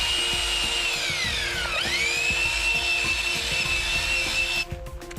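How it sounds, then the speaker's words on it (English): A half-inch power drill fitted with a cone mixer whines steadily while stirring Redeck texture material, its pitch dipping briefly under load before recovering, with faint knocks of the paddle beneath. "Add the water and mix as you go with the 1/2-inch drill and cone mixer."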